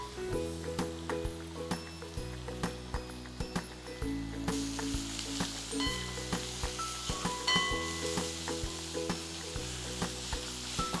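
Crushed ginger-garlic paste hits a hot pan of well-browned onions for a Kerala-style beef curry, giving a steady, close sizzle and crackle of frying with a few soft stirring clinks, and no talking.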